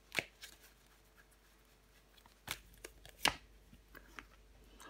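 Tarot cards handled during a reading: a few brief, soft card slaps and shuffles spaced apart in a quiet room, close and faint.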